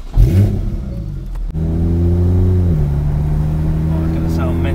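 A loud Porsche Cayman exhaust, a budget GT3-style build, barks through a sharp rev close by and then settles into a steady, droning, throaty run as the car pulls away and drives.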